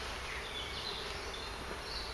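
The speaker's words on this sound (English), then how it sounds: "We seem to have plenty of bees in there, enough certainly to defend the full width of the hive" Honey bees buzz steadily at a hive entrance during a hive inspection, a faint, continuous hum that holds without pause against a quiet outdoor background.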